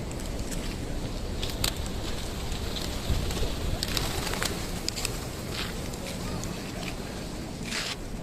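A large flock of pigeons gathered on a concrete road where pilgrims walk past, heard as a steady outdoor wash of soft wingbeats and cooing with brief flutters scattered throughout, no distinct voices standing out.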